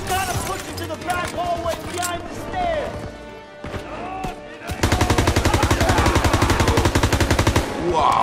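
Machine gun fire in the Call of Duty WWII video game, a sustained rapid burst of loud, evenly spaced shots in the second half, preceded by shouted voices, scattered impacts and battle noise.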